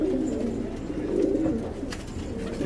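A loft of mixed male and female show pigeons coos in low, throaty, overlapping murmurs, a continuous soft burble close by with no voices.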